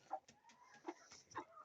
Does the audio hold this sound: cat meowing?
no